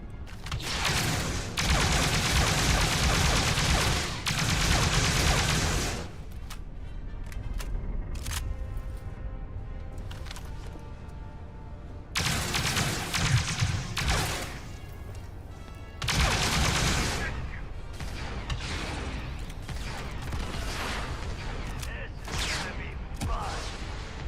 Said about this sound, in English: He's pointing his gun through the wall and shooting me.